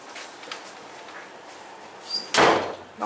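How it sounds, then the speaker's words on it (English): A door swings and shuts with a single sharp bang near the end, preceded by faint shuffling and creaks, close by in a quiet room. "All right, close the door. Close the door."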